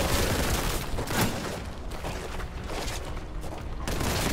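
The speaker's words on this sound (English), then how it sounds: "Those explosions are so powerful." Dense, continuous rumbling gunfire and booming explosions from Warhammer 40,000: Boltgun, loud and sustained with bursts of rapid shots throughout.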